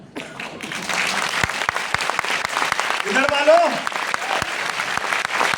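A seminar audience breaks into dense, sustained applause after a brief spoken line, with a voice continuing to talk above the clapping.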